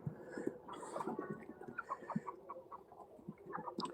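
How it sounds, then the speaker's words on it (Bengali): Kuroiler chickens on a poultry farm cluck softly, with a steady scatter of short, overlapping calls from several birds at a quiet, close distance and no talking. "এখানে আমার ফার্মে আপাতত এই মুরগিগুলো রয়েছে"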